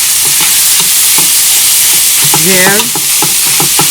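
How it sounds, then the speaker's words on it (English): Soya granules fry in a pan with a loud, continuous sizzle and intermittent stirring scrapes, and a voice briefly speaks over it. "fry it very well"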